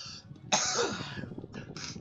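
Repeated coughing during a heroic raid session: a sharp burst followed by a rough, trailing cough and a couple of shorter hacks, close and fairly loud over quiet background noise.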